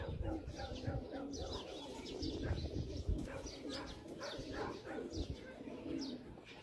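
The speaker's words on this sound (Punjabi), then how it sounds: "ਕਬੂਤਰ ਬਹਿੰਦਾ ਤੁਹਾਨੂੰ ਸ਼ੋਅ ਕਰਾਉਂਦੇ ਹਾਂ" Pigeons coo softly at a loft, with light chirps, faint wing flutters and background noise mixed in, the calls repeating at a moderate distance.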